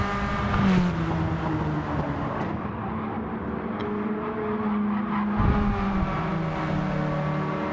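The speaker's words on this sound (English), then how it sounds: "Peter Rex is going to come out of pit road with a full tank of gas." GTO race cars run at Tsukuba circuit in a racing game, a continuous engine drone with shifting revs, as cars pass and accelerate at moderate distance.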